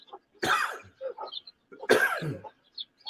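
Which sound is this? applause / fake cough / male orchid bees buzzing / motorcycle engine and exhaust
fake cough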